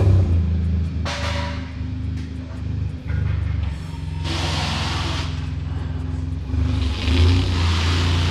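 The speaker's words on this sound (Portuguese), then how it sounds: "Ó o carro ligando agora, o ronco é da hora também" A Volkswagen Golf GTI engine idles with a deep rumble, then revs up loudly several times in surges, close by and without talk.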